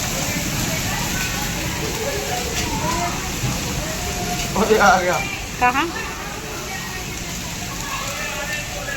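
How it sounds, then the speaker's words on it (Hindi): Heavy rain with hail falls steadily as a dense, continuous patter close by, with people talking briefly over it midway. "देखो कितनी छमाछम बारिश पड़ रही है।"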